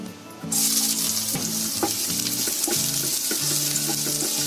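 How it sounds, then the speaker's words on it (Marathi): Finely chopped ginger and garlic hit hot oil in a pan and burst into a sudden loud sizzle, which then holds as a steady, close crackle while a few spoon scrapes and soft background tones sound beneath it. "तेलामध्ये आपलं आलं आणि लसूण चांगली टाकली म्हणजे चांगली फ्राय होते"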